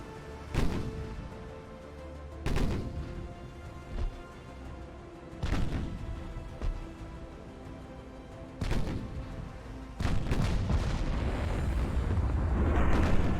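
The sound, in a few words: battleship guns firing in Ultimate Admiral Dreadnoughts video game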